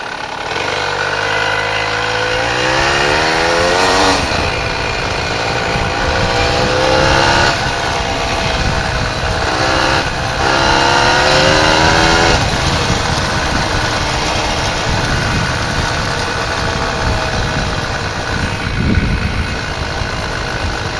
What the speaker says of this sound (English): You're giving me a little bit of a thud, thud, thud, thud. That's a bit unusual for his typical two-stroke.